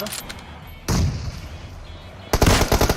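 Gunfire bursts out in PUBG Mobile, a loud volley near the start and rapid automatic shots toward the end, with a voice faintly in the mix.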